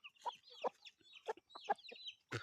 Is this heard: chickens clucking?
yes